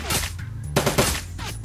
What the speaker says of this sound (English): Our turrets light them up.